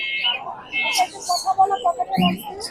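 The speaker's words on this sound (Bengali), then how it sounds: "কথা বলা কোকাটেল পাখি" A cockatiel gives a rapid series of chattering chirps and whistles at close range at a bird market, with a voice speaking over part of it.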